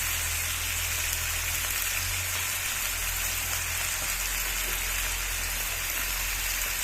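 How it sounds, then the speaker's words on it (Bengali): Sliced star fruit sizzles in hot oil in a pan, a dense, steady crackling hiss that runs unbroken and fairly loud throughout, with no talking over it. "তেল গরম হয়ে গেছে। কামরাঙ্গাগুলো দিয়ে দিচ্ছি"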